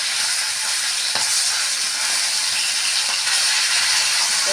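Silver carp pieces fry loudly in hot oil, a dense unbroken sizzle and hiss throughout, with a faint knock or two as the fish is turned over in the pan.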